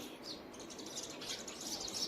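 Sparrows eating scattered millet chirp in a busy, overlapping chatter, faint to moderate and continuous, with no one speaking.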